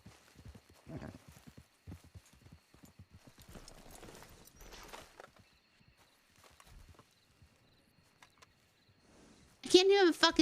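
Roach the horse walks with a steady clip-clop of hooves in a video game roleplay, soft repeated steps under intermittent talk, ending with a louder burst of sound.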